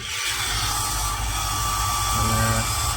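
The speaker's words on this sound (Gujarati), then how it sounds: "મોટર થઈ ગઈ ચાલુ" A water pump motor starts up to fill a water tank and runs with a steady, close mechanical whir and rattle, holding its level throughout.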